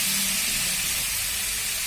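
Loud steady sizzle from soy sauce poured over chicken frying in a little oil, a dense hiss that carries evenly from start to finish.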